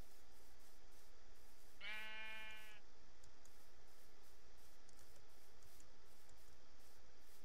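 A single sheep bleat from the Minecraft video game, one wavering call about a second long over a faint steady background hum.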